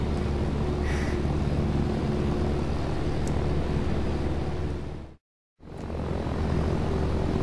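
A propeller plane's engine in the game Arma 3 drones loudly and steadily at close range, cutting out abruptly for about half a second before resuming.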